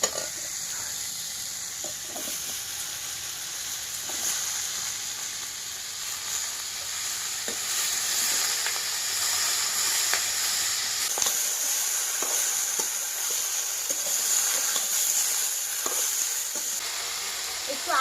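Chopped Malabar spinach hits lightly browned potatoes frying in a pan, giving a steady hiss and sizzle with occasional soft stirring scrapes, heard alone at a moderate level.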